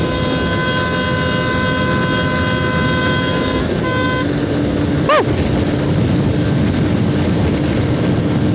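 A Honda Xblade motorcycle rides along a rough road, its engine holding a steady drone with whining tonal lines as it shifts up, and a brief sharp sweep near the middle.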